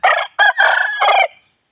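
A fighting rooster crows loudly nearby, one full crow broken into several bursts and trailing off at the end.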